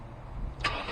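A Mercedes SLK struggles to start, a low cranking rumble that catches with a brief surge near the end, close and moderately loud.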